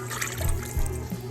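Warm water is poured into a bowl of dry yeast and sugar for proofing, a soft trickling and gurgling splash with a couple of fuller glugs, quiet and close.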